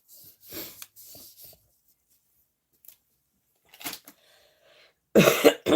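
One person's cough, with a few soft bursts and a short throat sound spread across quiet stretches, then a loud, harsh close cough at the end.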